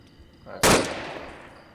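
A single sharp, loud burst of gunfire in a video game battle, a sudden crack that decays over about a second.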